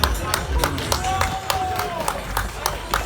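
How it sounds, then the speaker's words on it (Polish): Spectators clap in a sharp, regular rhythm for runners reaching the finish of the Signify Piła half marathon, with crowd noise and an announcer's voice talking over the beat. "proszę o wielkie brawa"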